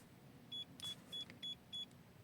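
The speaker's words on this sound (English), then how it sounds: "we've got 5 bleeps" Starline i96v2 immobiliser fitted to a Mercedes Brabus S500 giving five short evenly spaced confirmation bleeps, high and clear over a faint low cabin hum.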